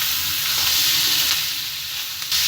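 Vegetable and egg filling seasoned with turmeric fries in a pan for parathas, giving a loud continuous close sizzle with a soft stir or two.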